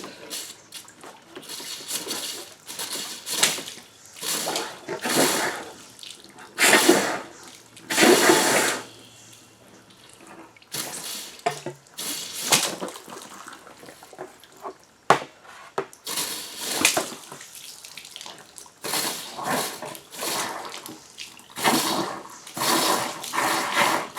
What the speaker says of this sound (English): here's a look at what's coming out while I'm blasting it with water and air